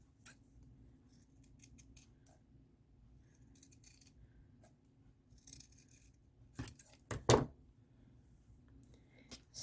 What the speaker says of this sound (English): I'm going to cut little fringes like that, about 1/4 of an inch across.